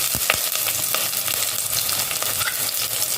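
Curry leaves, ginger and onion sizzling in hot oil, a close, steady crackling fry with scattered sharp pops and faint stirring clicks throughout.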